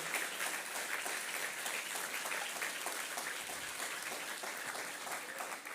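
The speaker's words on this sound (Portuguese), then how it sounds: "Pode aplaudir a Ele no nível da sua fé" A church congregation applauds during a Methodist service: sustained, even clapping from a large crowd filling the room, with little speech over it.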